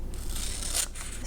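Scissors snip through a cardboard toilet paper roll in one steady, close cut with a faint hiss of blades sliding through the card.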